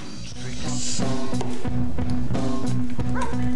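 A dog barks and yips in short repeated bursts close by, loud and continuous over the whole stretch.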